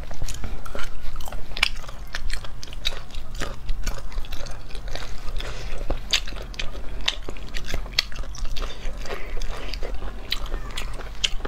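Chicken feet eaten up close, with repeated crunchy bites and wet chewing in an irregular rhythm, crisp and loud against a quiet low hum, no talking.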